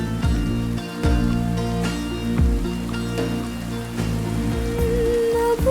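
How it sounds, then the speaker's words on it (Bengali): Rain falls steadily on a surface as a broad, even patter, with soft thuds and tonal background music running underneath throughout. "বৃষ্টি কিন্তু বাড়ছে, পরে আরো ওষুধ বাড়বে।"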